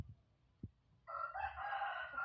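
A pet rooster kept at home crows once, loud and close, in a long sustained call that begins after about a second of near quiet and a single soft knock.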